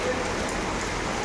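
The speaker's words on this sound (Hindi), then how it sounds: "बहुत ही भयंकर बारिश हो रहा है" Heavy rain pours down in a steady, dense hiss, close and even, with no voices over it.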